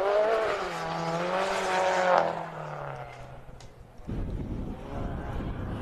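Toyota Celica GT4 race car sliding at the rear during the Golden 1200 event, its engine note rising and falling before dropping away, then a rougher noisy rumble as commentators talk over it.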